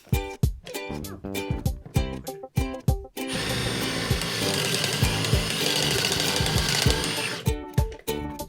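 An impact driver drives screws into wood with a pocket hole jig, sounding first as a series of sharp rapid clacks, then a long dense continuous rattling hammering burst, then more short clacks. It is close and loud, with no talk.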